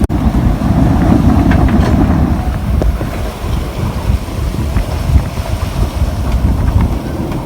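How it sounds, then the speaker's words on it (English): Strong gusty wind in the 30s roars over a sailboat under reduced sail, a loud, sustained rumbling buffet that surges and eases, with faint creaks and rattles beneath and no talking. "It's blowing like stink. It's blowing like in the 30s for the gusts."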